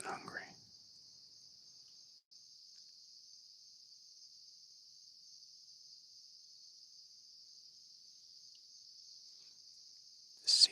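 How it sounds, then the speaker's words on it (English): Crickets in the woods on an evening hunt in Maryland, a steady high continuous chirring drone throughout, quiet and even, with a brief soft voice at the start and a rustle at the end. "listening to the crickets and the chirping things and the bugs and the cicadas"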